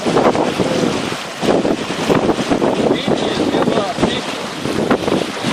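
Strong, gusty wind buffets the microphone aboard a sailboat out on the ocean, a continuous roar with rushing water beneath it.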